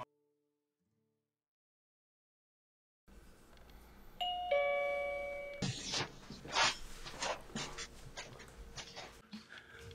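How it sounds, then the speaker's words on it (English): A doorbell chimes a few clear tones after a stretch of silence, followed by a dog barking and whimpering excitedly nearby. "The doorbell just rang and I know what that means."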